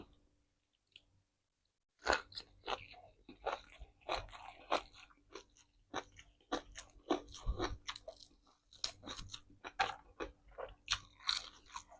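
Close, crisp crunching of crispy fried dried frogs and fried pork sausage in a rustic Isan-style meal, after a short silence: steady bites and chewing with sharp crackles repeating quickly, heard with no talk.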